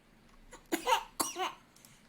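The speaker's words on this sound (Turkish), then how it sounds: "Niye öksürdün?" Two close, sharp coughs in quick succession, then quiet.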